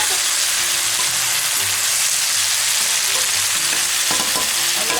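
Sautéed bitter gourd (ampalaya) is stirred in a frying pan, giving a loud, continuous sizzle with scraping and clatter from the utensil against the pan, with no talk over it.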